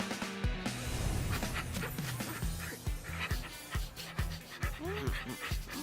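A dog barks and whimpers in short yips and pants, close and busy, with voices talking over it throughout.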